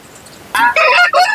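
A rooster crows loudly and close by at a market in Kunnathur, a harsh rising call broken into three bursts after a quiet start.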